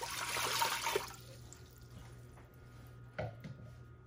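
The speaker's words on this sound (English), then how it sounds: "What we're gonna do first is add 2 cups of water." Water pours briefly into an Instant Pot while a flan is being made, a loud splashing rush for about a second, then quiet with a few faint clinks and drips.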